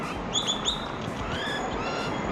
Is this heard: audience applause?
no